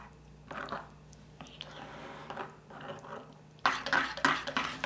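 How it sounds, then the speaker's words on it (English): Melted chocolate ganache is stirred in a bowl with soft scraping and wet squishing spoon strokes, quiet at first and louder and more rapid toward the end, with no one talking. "Now we're going to stir it. Make sure it's all melted."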